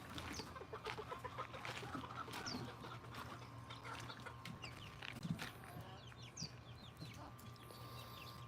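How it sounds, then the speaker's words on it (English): A flock of 24-day-old chicks cheeps and clucks steadily on a homestead, many small overlapping calls forming a busy chorus over a constant low background hum, with no talking. "These chicks are 24 days old."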